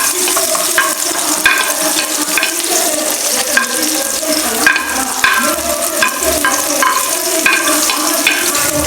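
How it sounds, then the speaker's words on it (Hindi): Onions fry in hot ghee for beef pulao, a loud continuous sizzle with crackling pops and occasional stirring scrapes close up, no talking. "घी को मैंने अच्छी तरह से गर्म कर लिया। इसके अंदर हम प्याज डाल देंगे।"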